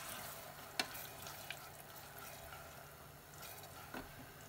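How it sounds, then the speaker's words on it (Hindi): Tomato and onion sizzle softly in oil for a jackfruit curry, a faint steady frying hiss with a few light clinks of a spoon stirring, no voices. "टमाटर के साथ हमें प्याज को भून लेना है बीच बीच में चलाते हुए"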